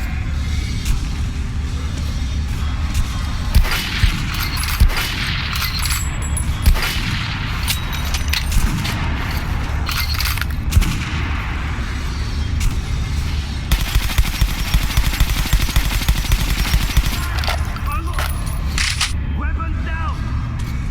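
Gunfire in Metro Last Light Redux: rapid, sharp shots and bursts crackle continuously, loud and close, with voices shouting over the shooting throughout.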